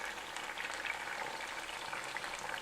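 Okra frying and browning in oil in a pan gives a soft, even, bubbling sizzle. It stays steady and fairly faint the whole time.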